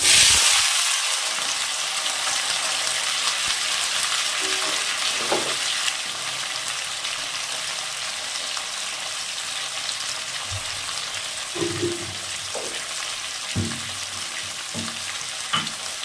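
Potatoes, peas, tomato, carrot and green chilli hit hot oil in a pan with a bright, loud hiss that gradually settles into a steady sizzle, broken by a few knocks of stirring.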